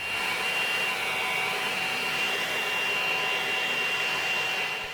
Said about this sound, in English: As I use the DeWalt 20-volt blower to clean my driveway, I do find myself pretty much running it at full tilt the entire time.